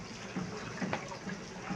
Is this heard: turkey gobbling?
no